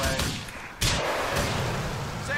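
Rocket launcher firing in the video game GTA 4: a sharp blast near the start, then a second loud boom partway through that leaves a dense rumbling roar of explosion and debris, with gunfire-like crackle throughout.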